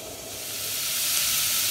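Celery stalks sizzling in hot oil in a pot, a steady bright hiss that slowly grows louder, close and continuous with no talk.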